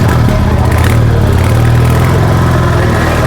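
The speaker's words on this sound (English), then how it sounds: "किया इस बाइक को start and let's hear the sound" A Royal Enfield Goan Classic 350 motorcycle engine runs up close and loud, a deep steady thumping exhaust rumble holding an even pitch throughout with no voices over it.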